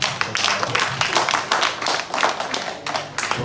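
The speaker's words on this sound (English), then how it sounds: "give her a very good sound round of applause." A meeting audience gives a round of applause, steady overlapping hand claps at moderate distance, lasting a few seconds with a brief dip partway through.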